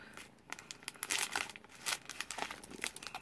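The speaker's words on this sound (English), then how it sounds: "I don't know why I'm straightening the bags out before I cut them" Plastic bags being straightened out by hand during a toy unboxing give soft, close crinkling and rustling in uneven bursts, fairly quiet overall.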